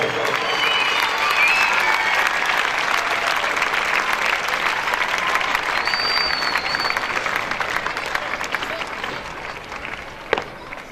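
An audience at a school annual function claps in sustained, dense applause that holds steady and slowly fades, with a few whistles and crowd noise mixed in.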